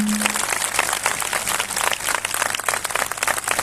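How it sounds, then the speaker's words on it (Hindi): A church congregation at a Christian fellowship convention in Umarpata claps loudly and steadily in thanks, a dense wash of many hands sustained for several seconds without a break and with no talking over it. "जोर से ताली बजाकर धन्यवाद दें।"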